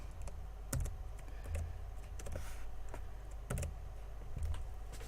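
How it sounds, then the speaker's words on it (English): Typing on a computer keyboard while entering C code, heard as soft, close key clicks in irregular bursts with brief pauses, no voices. "you're not going to learn much from watching me typing"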